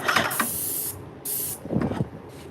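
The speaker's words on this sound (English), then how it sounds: "Now I'm getting overspray all over me." Two long hissing bursts of aerosol spray paint hit a wooden desk, each about a second long with a brief gap between, close and loud with faint handling noise.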